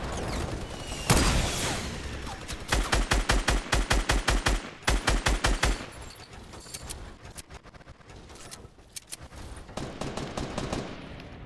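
Rapid video-game gunfire with sniper shots: sharp bursts of automatic fire ring out, then a steady rhythmic run of loud evenly spaced shots, followed by scattered fainter shots and battle noise, with no talking over it.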